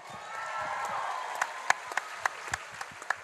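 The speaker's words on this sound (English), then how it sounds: "Let's have a round of applause for Nina and George, who will help us raise the dead." Studio audience applause on a talk radio show for two guests, Nina and George, a steady moderate burst of clapping with a few sharper claps and whoops standing out near the end.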